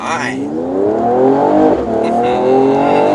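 A Mercedes-AMG CLS 53 4MATIC+ with its 3.0-litre six-cylinder engine accelerates hard, engine tone rising loudly then dipping briefly at a gear shift before climbing again, with someone talking over it.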